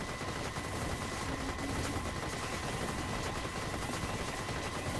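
Continuous dense gunfire from the video game Vampire Survivors, a steady rattling barrage with a faint constant tone underneath, loud and unbroken.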